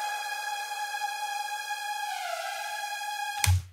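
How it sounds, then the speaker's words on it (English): A synth patch from the Massive software synthesizer plays through a fully wet reverb, giving a sustained, shimmering tone with a bending, spacey warp-drive quality that ends in a short low thump. "It's a synth in massive that has basically a completely wet reverb signal."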